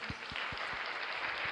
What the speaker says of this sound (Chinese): 掌声送给千玺